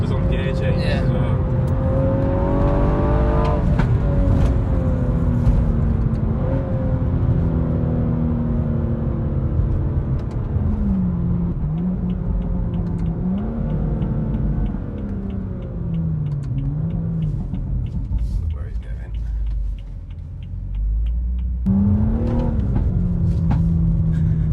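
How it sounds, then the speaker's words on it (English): A Stage 2 tuned BMW M135i engine drones and revs on the road, pitch climbing and dropping through gear changes, with loud cabin rumble throughout and people talking over it. "I love the little pops it does on the gear change as well."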